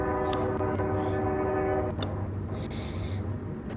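At Marias Pass, a train horn sounds steadily for about two seconds, then stops, leaving the low rumble of the passing train with a faint hiss.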